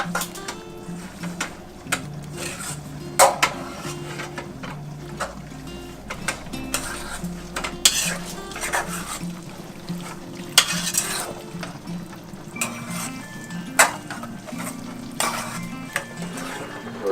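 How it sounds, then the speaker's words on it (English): Shrimp are stirred and tossed in a hot pan, with repeated scraping and clinking of a utensil against the pan over a steady low sizzle, irregular and close. "Make sure you mix that real well."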